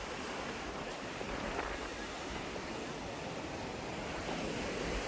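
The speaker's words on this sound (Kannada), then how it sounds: "ನೋಡ್ರಿ ಅರಬ್ಬಿ ಸಮುದ್ರ" Arabian Sea surf washing ashore in a steady, loud, unbroken roar, with faint wind on the microphone.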